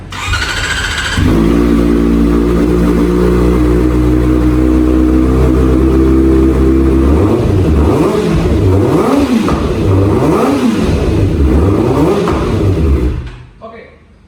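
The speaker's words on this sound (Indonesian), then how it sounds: "Dan inilah suara knalpot dari JRX 4 FR." A matic sport motorcycle fitted with a JRX 4 FR exhaust starts up and idles with a loud, deep burble, then revs repeatedly in rising and falling sweeps before cutting off, heard up close in a showroom.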